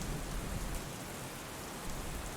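Steady rain falls as a sound effect in a narrated Spanish horror story, a dense, even hiss of drops that is close and continuous, with no voice over it.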